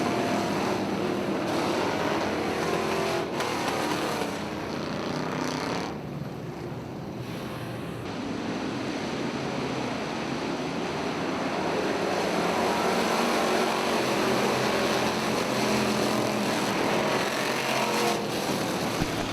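Pure stock race cars roar around the Lake Ozark Speedway dirt oval, a loud continuous engine drone that dips briefly as the pack passes, then builds again, alone without commentary.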